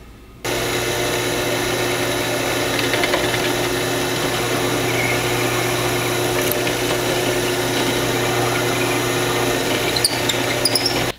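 A power drill boring a 21/64 pilot hole into cast resin for a bottle stopper, running loud and steady for about ten seconds with a few small clicks near the end.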